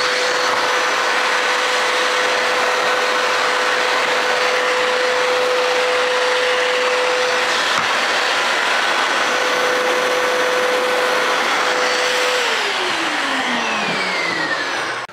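A Cecotec Conga wet and dry vacuum cleaner runs loud and steady with a constant motor whine throughout, its pitch holding level and then sliding lower near the end.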